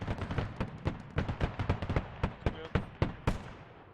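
Rapid 30mm cannon fire in the video game Squad, with a BMP in play, pounds out in a dense, uneven string of sharp, loud bursts, roughly a dozen or more within a few seconds, one after another with no talk over them.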